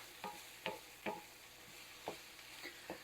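Polish sausage and cabbage brown quietly in a pan under a soft, steady sizzle, while a utensil scrapes and taps the pan every second or so.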